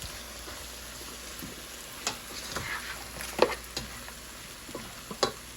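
Plant-based butter sizzles softly in a pan under a quiet, even hiss, broken by a few sharp clicks and scrapes of a utensil.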